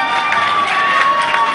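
A crowd at a live concert in Liège cheers and claps in a steady roar, with a sustained tone running beneath the noise.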